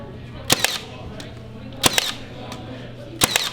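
A Milwaukee 18-gauge brad nailer drives brad nails into wood in three sharp, close pneumatic snaps spaced about a second and a half apart, each followed by a quick mechanical rattle.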